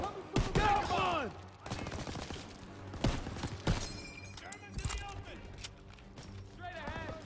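Bursts of machine gun fire and scattered shots crack through a Call of Duty: WWII battle, loud and uneven, with soldiers shouting over the gunfire throughout.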